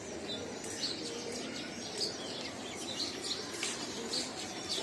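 Pigeons in a loft, with steady high bird chirps and calls repeating over a dense, hissy background and occasional soft fluttering, at moderate distance with no talking.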